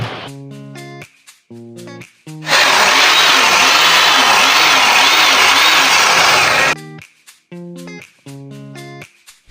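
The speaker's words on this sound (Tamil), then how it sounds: "மிஷின் இப்போ ரன் ஆகுது. நீங்கள் பார்த்தீங்களா சவுண்டு?" A repaired breaker machine, a power tool, runs loud and steady for about four seconds, a harsh broadband roar with a pulsing rhythm, framed by short bursts of talk before and after.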